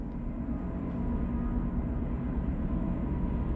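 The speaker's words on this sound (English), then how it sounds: "Is that a train?" A train rumbles past near a basement boiler room, a steady low, dense roar that holds at even loudness for several seconds with no voices over it.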